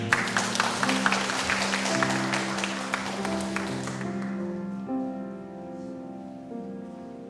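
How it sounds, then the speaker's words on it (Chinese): A church congregation at a Taiwanese-language Sunday worship service claps loudly and rhythmically for about four seconds over sustained organ-like chords, then the clapping stops and the held musical tones continue alone. "我们再一次拍手归荣耀给神"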